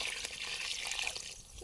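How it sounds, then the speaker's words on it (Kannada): Water being poured into a pot of rice for cooking, a soft continuous splashing and trickling, fairly faint and heard alone. "ಇವಾಗ ಅಕ್ಕಿ ಅಳ್ತೆಗೆ ನೀರು ಹಾಕ್ತಾ ಇದ್ದೀನಿ."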